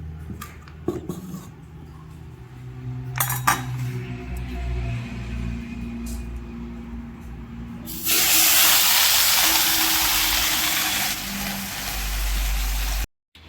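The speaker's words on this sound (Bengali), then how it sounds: "এবার মাছগুলোরে ভেজে নেব।" Fish frying in hot oil in a home kitchen: faint clatter at first, then a loud, steady, close sizzling hiss that lasts about five seconds and stops abruptly.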